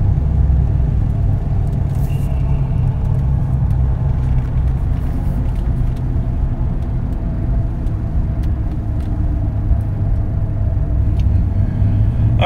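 A Nissan Titan truck's engine idles steadily with a low, continuous rumble that stays loud and close throughout, with no talking.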